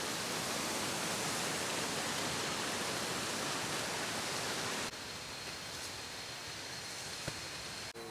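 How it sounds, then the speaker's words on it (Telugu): A waterfall at Doi Inthanon in Thailand's forest gives a dense, constant rushing roar. The level drops noticeably in the second half but stays steady, with no voices. "నిజంగా భలే ఉంది వాటర్ ఫాల్."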